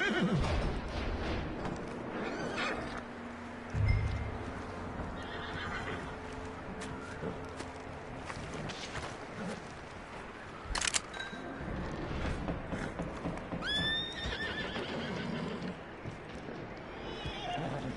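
A horse whinnies clearly in Red Dead Redemption 2, with clip-clopping hooves and a couple of sharp louder knocks over a steady outdoor game ambience, no talk.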